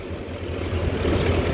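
A tractor ploughing a 7–8 bigha field gives a steady, loud, close engine drone with a low rumbling throb that holds evenly throughout, with no voices.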